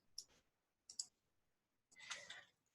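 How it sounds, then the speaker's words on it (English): Quiet, crisp mouse clicks on a software randomize button: two quick single clicks, then a short cluster of clicks, in a silent room. "by clicking the randomize button"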